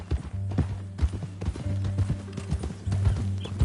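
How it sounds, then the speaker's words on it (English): Horse hooves clip-clop at a steady walking pace in the video game Red Dead Redemption 2, close and continuous with a low rumbling background. "That a new horse?"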